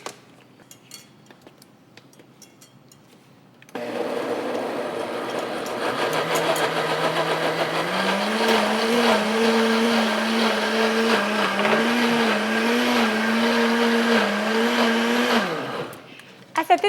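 A blender whirs loud and continuous for about twelve seconds, purée of onion pieces and vegetables churning as its motor pitch steps up in stages, starting after quiet kitchen sounds and cutting off abruptly at the end.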